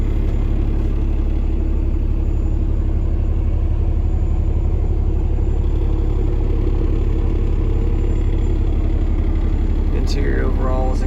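A 2017 Peterbilt 389 heavy-spec daycab truck runs with a loud, steady, deep diesel rumble that holds unchanged throughout, close to the microphone.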